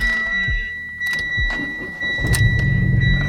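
Mitsubishi Evo X engine cranking and starting after a coil install, with a few brief starter whirs before the engine catches and settles into a steady, close, rumbling idle.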